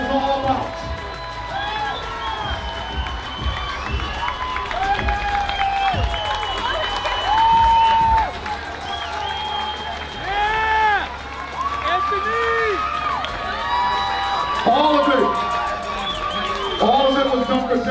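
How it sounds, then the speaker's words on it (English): An audience applauds and cheers beneath an ongoing voice, the crowd noise swelling and fading while melodic sounds with speech run over the top throughout. "give them a nice, loud round of applause"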